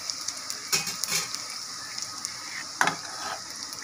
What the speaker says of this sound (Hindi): हल्का सा प्याज भुना गया है